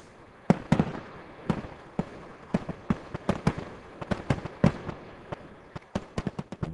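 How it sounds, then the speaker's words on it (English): Fireworks burst in a rapid, irregular series of sharp cracks and pops, some louder and closer than others, with crackling between the bigger bangs and no voices over them. "Wow, the fireworks are great."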